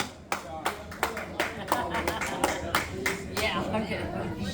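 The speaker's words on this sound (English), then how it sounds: "applause" A crowd in a saloon claps in a loose, uneven burst, sharp nearby hand claps standing out over a steady room murmur of voices.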